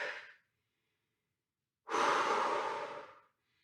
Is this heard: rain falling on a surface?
no